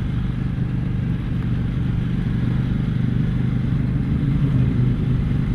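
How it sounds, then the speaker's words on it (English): A 2018 KTM Duke 790 motorcycle with its stock exhaust, out on a road ride, gives a loud, steady, low engine rumble that holds throughout with no speech. "Sounds absolutely beast with that stock exhaust on"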